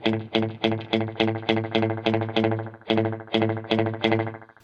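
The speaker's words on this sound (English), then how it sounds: "Just to really accentuate that delay for you" Guitar notes played through a NUX analog delay, each pluck followed by a quick repeating echo, forming a steady rhythmic pattern with no talking.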